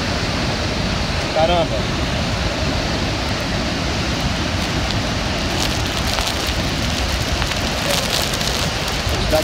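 Massive roar of the Iguaçu waterfall crashing down close by, a dense continuous rushing wash with strong wind, as a voice exclaims briefly over it.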